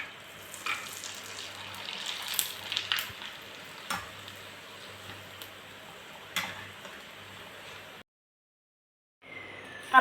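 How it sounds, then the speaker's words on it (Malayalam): Papad (ela vadakam) frying in hot refined oil while pressed down, a continuous crackling sizzle with occasional sharper pops and taps, close up, ending in a brief silence and a clink. "അപ്പോൾ നമുക്ക് പപ്പടം ഒന്ന് ഫ്രൈ ചെയ്താലോ"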